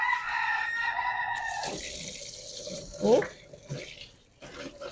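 An aglaonema bulb is rinsed under a running tap with a steady water flow, a rooster crows in the background, and a voice speaks briefly.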